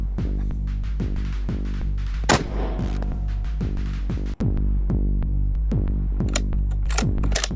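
A 300 PRC rifle fires during long-range shooting at about a mile, with a single sharp loud report over a constant low outdoor rumble and scattered clicks and taps around it.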